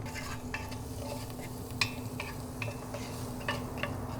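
Morels and green onions fry in a Dutch oven with a steady low sizzle. A few sharp clicks and taps come from stirring against the pot, and the whole thing stays moderately quiet throughout.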